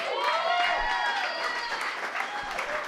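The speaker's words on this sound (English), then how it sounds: "Please, start clapping right now for the one," A live comedy roast audience breaks into loud sustained applause and cheering. Tonal music or electronic warbles sweep over the clapping, which stays dense and constant throughout.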